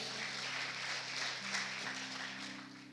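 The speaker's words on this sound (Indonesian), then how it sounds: "Tepuk tangan buat Tuhan Yesus dulu, haleluya" A church audience claps in continuous, moderately loud applause lasting the whole stretch, with a sustained musical tone underneath.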